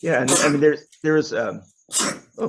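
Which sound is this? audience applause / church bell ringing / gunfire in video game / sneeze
sneeze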